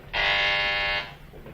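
A front door buzzer rings in a 1935 film, one loud, steady electric buzz lasting about a second before cutting off, heard alone.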